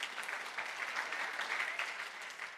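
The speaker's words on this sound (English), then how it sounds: "you should clap" A crowd breaks into applause during a talk, a brief close burst of many hands clapping steadily, fairly faint and lasting under three seconds without speech.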